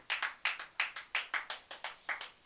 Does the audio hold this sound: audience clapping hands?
yes